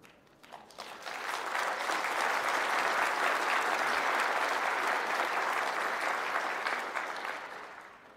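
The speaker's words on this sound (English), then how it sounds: "thank you for the applause." A conference audience at a keynote on disability and accessibility breaks into applause. It swells within the first second into a sustained, even roar of many clapping hands, then fades slightly near the end.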